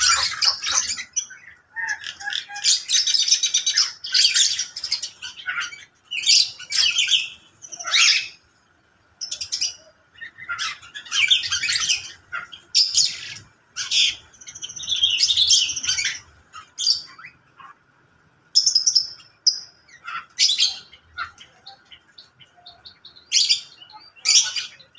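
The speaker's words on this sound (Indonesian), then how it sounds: "kali ini saya mau membuat video burung kepodangnya" Black-naped oriole (kepodang) calls, bright clear whistles and chirps repeating in frequent bursts, fairly close and loud against a quiet outdoor background with no talking.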